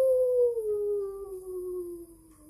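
A voice imitates a spooky howl, one long, smooth, wavering note that slowly falls in pitch and fades over a couple of seconds, heard alone and fairly soft.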